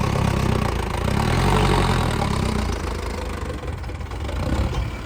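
A tractor engine, either a Mahindra Arjun Novo 605 DI or a Swaraj 855 FE 4WD, runs in medium third gear during field work, with a loud, close, continuous knocking drone.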